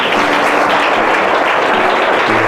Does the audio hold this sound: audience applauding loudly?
yes